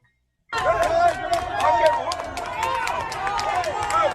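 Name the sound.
crowd cheering as NYPD arrest a man on a Brooklyn ferry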